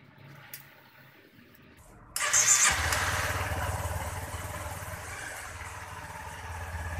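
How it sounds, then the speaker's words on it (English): Honda CRF250L motorcycle engine catching after a jumpstart from a car: a quiet stretch, then the engine fires and settles into a steady, loud, close idle with a continuous low rumble. "so I go ahead and jumpstart it with my wife's car"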